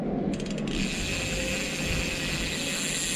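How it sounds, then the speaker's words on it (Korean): Freewheel ratchet of a premium tri-fold folding bike's rear hub with radial spokes, spinning in a steady fine buzz of rapid clicks, close and clear with no talking. "휠스의 라쳇 소리도 되게 부드러우면서 적당히 크고요"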